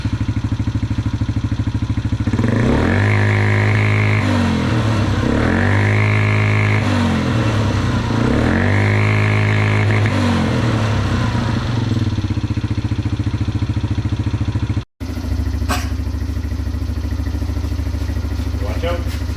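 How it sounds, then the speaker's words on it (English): Small Polaris Outlaw 70 youth ATV engine revving up to its rev limiter in three loud, rising bursts that bounce off the limiter, with steady engine drone between them and a brief cut before it idles on. "You can hear these things hit the rev limiter pretty soon,"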